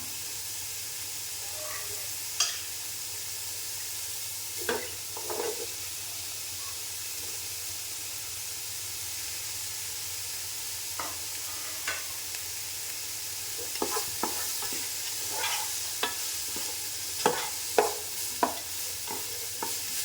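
Vegetables with capsicum stir-fry in a pan for chicken fried rice, a soft steady sizzle broken by scattered scraping and stirring clicks, fairly quiet and without speech.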